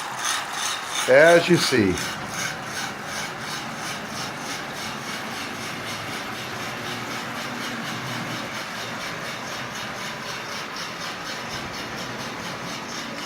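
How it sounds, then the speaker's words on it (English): A Lionel 8213 model train locomotive runs with a steady, rhythmic mechanical whirring and clicking, heard close and moderately quiet after a brief louder clatter, while a voice speaks briefly near the start. "This locomotive is running really, really well."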